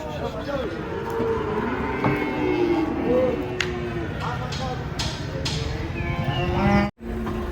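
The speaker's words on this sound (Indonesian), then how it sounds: "Rombongan sapi datang ini." Several cattle moo in long, overlapping calls as a herd moves close by, with people chattering in the background.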